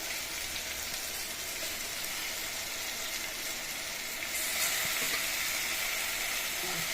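Washed chicken pieces frying with cumin in a pan for a chukka kura chicken curry, a dense, steady hiss of hot oil that grows slightly louder near the end, close and unbroken, no voices.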